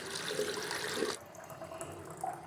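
Water purged through a hiking water filter outdoors, a steady gushing, splashing stream for about a second that then cuts off, leaving quieter trickling and dripping afterward.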